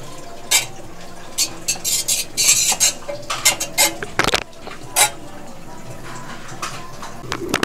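A spoon stirs a maja corn jelly mixture in a pot, irregular scraping and clinking strokes with a few sharper knocks, close and fairly loud over a steady low background hum.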